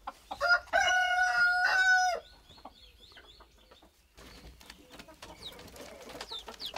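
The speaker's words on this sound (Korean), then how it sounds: "저희 막내가 애지중지 키우는 닭이에요." Ornamental pet chickens kept on a rural church farm, with a rooster crowing loudly and close in one long harmonic call, followed by softer clucks and scattered bird chirps.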